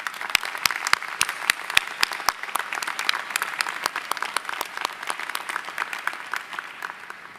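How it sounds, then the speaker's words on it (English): Commencement audience at a school of management ceremony applauds the graduates' families, a steady patter of many hands clapping with a few sharp, louder claps standing out, fading slightly toward the end. "could we have a round of applause for the families?"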